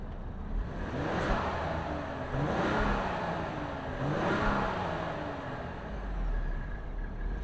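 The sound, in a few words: 2025 Ford Explorer Platinum twin-turbo V6 engine starting and accelerating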